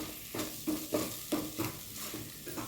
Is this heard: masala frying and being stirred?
yes